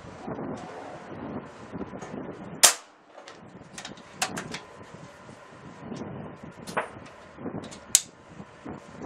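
A Benjamin Bulldog air rifle fires a single sharp shot outdoors, with a few fainter cracks following, over steady wind noise buffeting the microphone.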